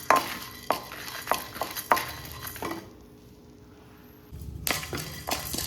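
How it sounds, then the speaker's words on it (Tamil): Urad dal, three dried red chillies, cumin and pepper are dry-roasted in a pan for an ivy gourd fry. A spatula clatters and taps against the pan in uneven strokes, goes quiet for a moment, then starts again. "ஒரு ஸ்பூன் உளுத்தம்பருப்பு, 3 மிளகாய் வத்தல், கொஞ்சம் ஜீரகம், கொஞ்சம் மிளகு இதெல்லாம் போட்டு கொஞ்சம் நல்லா வறுத்துக்கலாம்."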